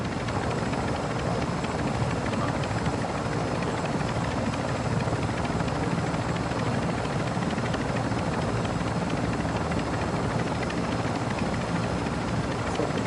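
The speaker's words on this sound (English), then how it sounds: "is that the fucking helicopter?" A helicopter in a video game roars with a loud, constant rotor wash and engine noise, unbroken and close for over ten seconds with no talking.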